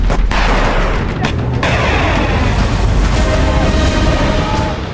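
Artillery and small-arms fire during a Chinese army exercise, a loud, dense barrage of booms and gunshots sounding continuously from start to finish with no gaps.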